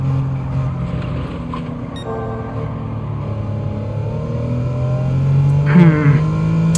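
A racing car engine in Gran Turismo 7 drones steadily as the car laps a circuit, its pitch rising and revving up near the end, loud and continuous without talk.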